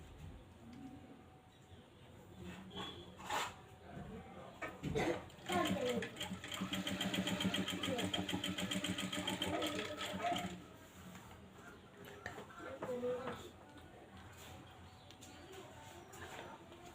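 Sewing machine stitching a churidar top, a steady whirring run of rapid needle strokes for several seconds, with quieter pauses before and after, while someone talks over it and birds coo faintly in the background.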